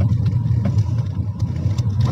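A Kia Seltos travels in second gear at about 30 km/h over a badly broken road, its engine a close, steady low rumble mixed with bumps and thuds from the rough surface.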